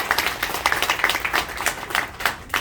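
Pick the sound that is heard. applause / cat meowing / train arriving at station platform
applause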